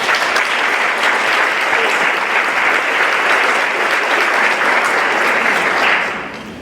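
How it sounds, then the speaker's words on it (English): Sustained audience applause at a women's business council luncheon, dense, loud clapping from a roomful of people that holds steady for several seconds before tapering off at the end. "So a round of applause for these ladies."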